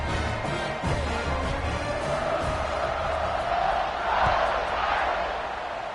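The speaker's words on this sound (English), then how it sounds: "They're set to kick it off, and this crowd now ready to get behind them." Football stadium crowd before kickoff at a Notre Dame game, a broad steady roar of many voices with a swell of cheering near the end, loud and continuous.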